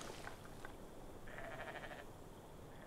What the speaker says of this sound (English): Little mountain goats or something,